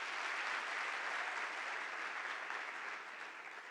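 Sustained audience applause opening a parliamentary session, an even wash of many hands clapping at moderate distance, steady throughout and easing slightly at the end, with no voices over it.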